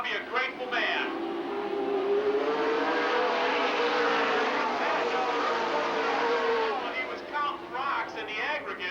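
Super late model stock cars racing at Lake Geneva Raceway in Wisconsin in 2000: a dense, loud roar of several engines blending into one sustained rumble, rising and fading as the pack passes, with engine whine near the end.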